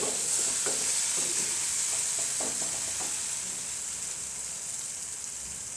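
Paneer frying in a pan for paneer bhurji, a constant close sizzle with scattered scraping and stirring taps from a spoon, with no talking.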